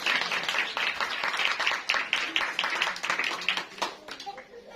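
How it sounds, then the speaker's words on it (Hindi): Dense, lively clapping from a congregation at a pastor's Bible teaching session, a continuous patter of many hands for several seconds with a voice heard faintly among it. "जोरदार तालियां बजा दें इनके लिए।"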